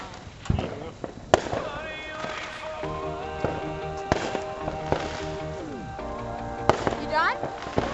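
Firecrackers and fireworks go off outdoors in a backyard show, with sharp bangs, crackling and whistling rising tones over a continuous noisy background, and voices talking underneath.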